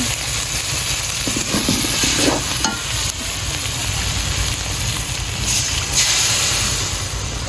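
Beef tongue bhuna stirred and frying in oil in a pan, with a steady loud sizzle and hiss throughout and occasional scraping of the spoon, no talking.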